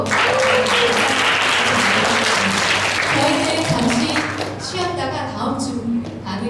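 An audience applauds a lecturer at an AI event, loud sustained clapping that fills the room and slowly thins toward the end as a voice begins talking over it.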